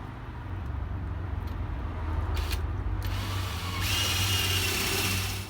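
A power drill bores a hole into wood while a simple bird feeder is being made, a steady close motor whine running throughout and swelling slightly louder near the end, with no talk.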